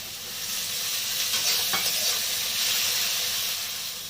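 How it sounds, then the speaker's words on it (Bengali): Chopped tomatoes and capsicum sizzle and fry loudly in hot oil in a pan for a fish and brinjal curry, a steady close hiss with light stirring scrapes and no talking. "এবার দিয়ে দেবো একটু ক্যাপসিকাম"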